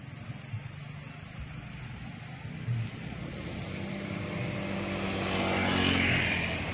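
A drone flying overhead on a roadside trip, its steady propeller whine mixed with a broad engine-like drone that swells louder toward the end as it passes close.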